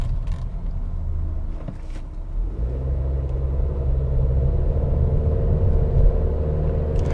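A 2021 Honda CR-V EX-L with a 1.5-liter turbocharged four-cylinder engine accelerating, heard from inside as a steady low rumble that swells and thickens after a couple of seconds and holds throughout.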